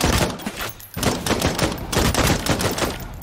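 Pistol fire in Vampire: The Masquerade - Bloodhunt crackles in rapid, loud bursts amid other gunfire in a multi-team fight, a near-continuous barrage with a brief lull.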